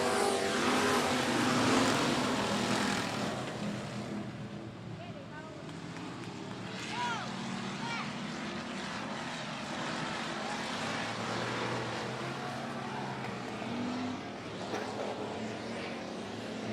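Race cars in a green-flag start at 105 Speedway, a steady roar of engines droning and swelling as the field passes, with voices talking over it throughout.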